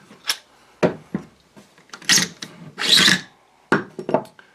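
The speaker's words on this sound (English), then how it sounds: "Pop this open and we'll take a look at the bolt carrier group." A Stag 15 Tactical rifle being opened on a tabletop to remove the bolt carrier group: close metallic clicks, scrapes and sliding rasps in irregular bursts, with no talking.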